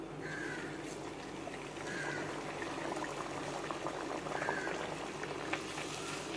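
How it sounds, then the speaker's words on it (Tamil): Sesame oil bubbling and boiling while puffed puri fry over medium flame, a steady fizzing bubble with a few crow caws heard faintly in the background. "அப்படி தான் நல்லெண்ணெய் வந்து இப்படி தான் பொங்கிட்டு வரும்."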